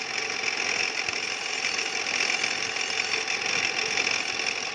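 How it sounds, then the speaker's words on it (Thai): A machine bores out a cylinder sleeve for a Honda Wave 110i, giving a steady, moderately quiet metallic whir with a faint grinding chatter throughout and no voices. "จะได้เห็นการคว้านไปพร้อมๆกันครับ"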